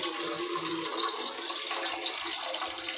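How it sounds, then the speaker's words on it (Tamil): Tap water runs into a large cooking vessel in a home kitchen while preparing pudding, a steady, close rushing stream that stays even throughout with no voices over it. "தண்ணி பிடிச்ச பெரிய பாத்திரத்தில் வந்து தண்ணி பிடிச்சிக்கலாம்."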